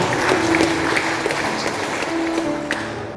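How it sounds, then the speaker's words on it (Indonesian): Applause from a church congregation of elderly community members at an installation Mass, a dense, continuous rush of clapping mixed with crowd noise and a few voices, fairly loud throughout the short burst. "tepuk tangan untuk kita semua."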